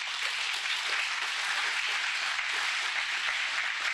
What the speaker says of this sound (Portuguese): Aplauda bem forte a senhora.